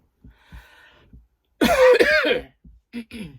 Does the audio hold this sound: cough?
yes